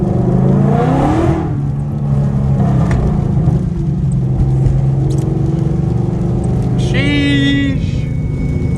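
Modified Ford Mustang GT on drag radials revving hard while driving on a rain-wet road; a loud, close engine roar climbs in pitch, then drops back to a steady rumble, with a brief rising whine near the end.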